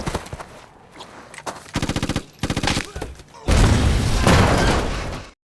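Film gunfire comes in rapid automatic bursts, loud and close, then gives way to a sustained roar of heavy shooting or an explosion.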